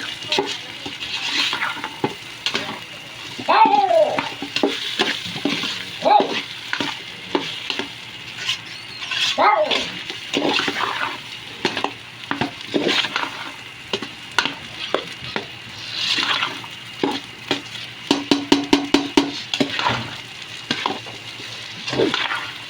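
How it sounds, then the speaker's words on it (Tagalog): Corn being stirred in a pan for a crab, corn and shrimp dish: close, uneven scraping and knocking strokes over a soft cooking hiss, ending in a quick run of rapid taps, with no talking. "Halo lang po ng halo. Para magkaiwaiwala yung ating mga mais."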